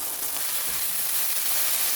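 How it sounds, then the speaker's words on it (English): A beef patty seasoned with ground black pepper sizzles steadily on a hot cooking surface, a continuous bright hiss heard close up with no talking. "Beef and pepper sizzle."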